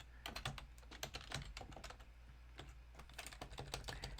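Rapid clicking keystrokes on a laptop keyboard, quiet and close, in an uneven tapping rhythm as a password is entered, with no talking.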